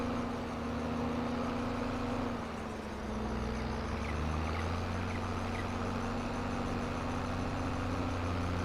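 Idling tractor engine in Farming Simulator 22, a continuous low drone that dips and shifts slightly in pitch partway through, then settles into a steady nearby rumble.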